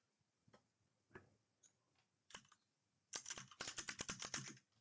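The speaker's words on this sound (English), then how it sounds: "I was trying to type a message" Keys on a computer keyboard click while a chat message is typed, starting as a few scattered taps and then turning into a quick, steady run of close, crisp keystrokes.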